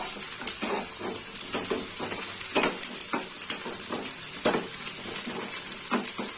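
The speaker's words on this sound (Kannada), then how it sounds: "ಇವಾಗ ಶುಂಠಿ ಬೆಳ್ಳುಳ್ಳಿ ಪೇಸ್ಟ್ ಇಂದ ಹಸಿ ವಾಸನೆ ಎಲ್ಲ ಹೋಗೋವರೆಗೂ ಫ್ರೈ ಮಾಡ್ಕೋಬೇಕು" Ginger garlic paste frying in a pan for an egg masala fry, a continuous bright sizzle close up, punctuated by occasional spoon scrapes.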